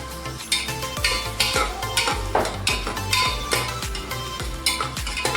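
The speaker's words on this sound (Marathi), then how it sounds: "छान परत परतून घ्यायचं मस्त असा कलर चेंज होईपर्यंत कांदा आपल्याला परतून घ्यायचा आहे" Onion and tomato sautéing in a pan for Brahmin-style bajri masala rice, with a spatula scraping and clanking against the pan in steady, repeated strokes roughly every half second over a constant frying hiss.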